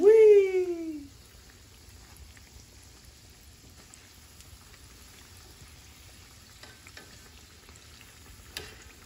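Biscuit doughnuts fry in vegetable oil with a soft, steady sizzle and faint crackle, following a brief loud tonal sound at the start; occasional small pops stand out over the constant low hiss.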